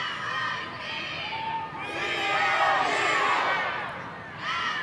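A crowd at a women's college soccer game on a chilly Friday evening in mid-Missouri cheers and shouts, children's voices mixed in, swelling into a louder roar midway before easing off.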